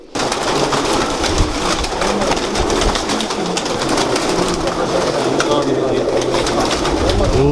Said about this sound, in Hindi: ये जी लाल आँखों वाले कबूतर हैं